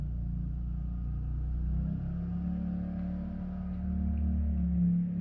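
A four-wheeler ATV rides around nearby, a continuous low engine rumble that swells and eases slightly as it moves, heard alone at moderate distance.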